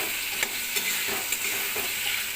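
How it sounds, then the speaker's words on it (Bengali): Fish curry with potato, onion and spices sautés in oil, a continuous close sizzle with a few sharp stirring scrapes and taps at intervals. "মাছের তরকারিটা কষতে দিয়েছি।"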